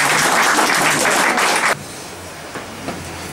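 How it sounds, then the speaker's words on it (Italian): Loud, dense applause from the audience at an international contemporary art expo opening rolls for under two seconds, then cuts off sharply, leaving quiet room tone with a few faint knocks. "Un applauso"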